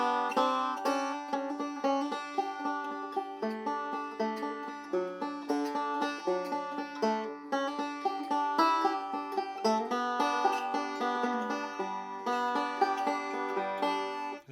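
Bright banjo picking in quick forward rolling patterns, a solo instrument playing a melody continuously with steady rhythmic drive and no voices.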